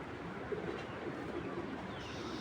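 A racing pigeon gives soft, low coos in a few short repeated notes close by, faint against a quiet steady background.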